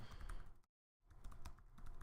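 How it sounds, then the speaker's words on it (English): Close, quiet typing on a computer keyboard while entering a location into Google Maps: a rapid run of light key clicks, a brief silent gap, then more tapping. "I'm going to start by typing in my start location"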